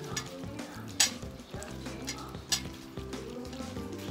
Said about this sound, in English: Just mix with a bit of the mixture of tomato, ginger, onion